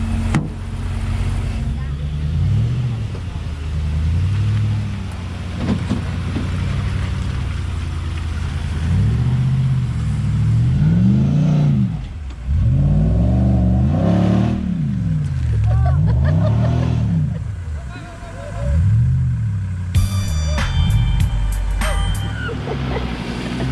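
A 4WD engine revs up a sloppy, muddy track on the Old Telegraph Track in Cape York, Queensland, its pitch rising and falling in repeated surges of throttle, loud and close inside the cabin, with people talking.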